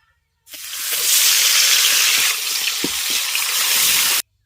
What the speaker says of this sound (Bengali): তেল খুব ভালোভাবে গরম হয়ে গেছে এবার তেলের মধ্যে ম্যারিনেট করে রাখা মাংসটা দিয়ে দেব